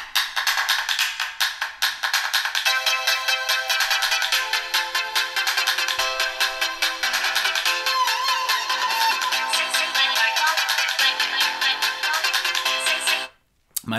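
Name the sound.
Motorola Moto X 2nd Gen loudspeaker playing a ringtone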